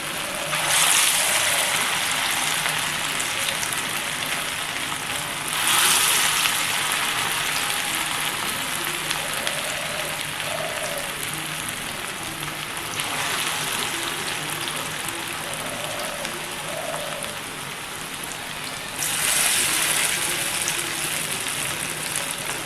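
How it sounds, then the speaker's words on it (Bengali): Pumpkin fritters fry in hot oil with a steady, even sizzling hiss that swells slightly now and then, close and continuous with no voices. "এগুলো ভাজা হতে থাকে।"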